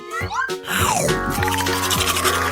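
A giant toothbrush scrubs through thick toothpaste foam with wet, bristly brushing strokes, close up, while excited voices talk over it.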